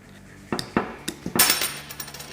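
Caps are popped off the bushings of a SuperATV high-clearance A-arm for a Kawasaki Teryx KRX 1000, heard as a quick series of sharp plastic-and-metal clicks and taps, close and distinct, with no talking.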